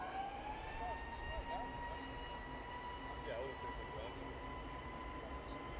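An EasyJet airliner rolls for take-off at Manchester Airport, a steady distant roar with sustained whining engine tones, while someone talks over it.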